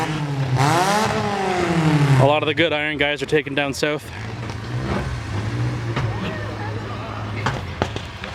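A drag racing car at the Binbrook Rumble revs its engine hard, with a rising and falling loud tone in the first seconds, then rough engine rumble continuing under a voice talking.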